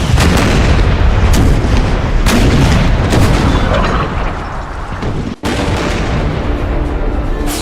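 Massed cannons fire double canister shot at point-blank range in a Civil War battle scene: a dense, loud, continuous roar of booms and blasts, briefly dropping out near the end before resuming.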